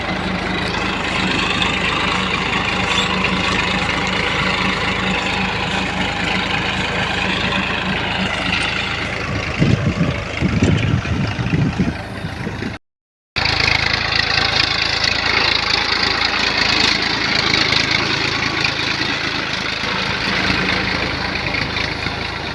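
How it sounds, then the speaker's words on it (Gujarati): A tractor engine runs with a continuous loud drone and rumble, holding steady apart from a brief rougher patch and a short dropout partway through. "મેં ટ્રેક્ટર તો હાંકી નાખ્યું"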